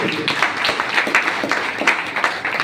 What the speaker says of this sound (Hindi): एक बार जबरदस्त ताली